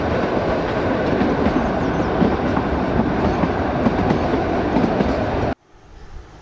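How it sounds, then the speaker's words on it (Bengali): The Kalka–Shimla toy train, the Shivalik Deluxe Express, runs along its mountain track with a loud, steady rumble and rattling wheel clatter that cuts off abruptly near the end. "আর আমাদের টয় ট্রেন এগিয়ে চলেছে।"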